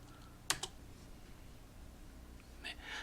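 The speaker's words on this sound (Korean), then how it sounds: "타이핑 쳐보도록 하겠습니다." Brief typing on a computer keyboard: a couple of sharp key clicks near the start and a few more at the end, quiet, against a faint room background.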